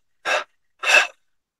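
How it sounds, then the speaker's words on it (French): Breathing out during guided meditation, two short, close, airy exhalations separated by a brief pause, alone in silence. "on expire en 3 fois"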